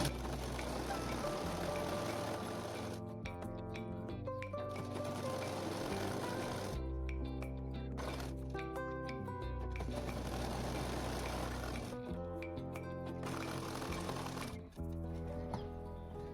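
A sewing machine stitches a seam along a salwar belt, running in quick mechanical bursts with short pauses between runs, close and steady.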